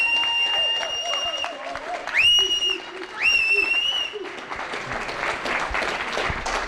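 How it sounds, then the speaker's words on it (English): Audience applause and cheering ring out for the champion of a Goliath poker tournament, with whistles cutting through the noise; the applause builds to a dense, sustained roar by the end. "can we please have a huge round of applause for the biggest Goliath champion ever"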